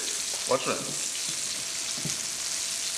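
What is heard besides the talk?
fish frying in oil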